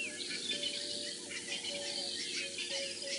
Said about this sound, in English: I can hear a crested franklin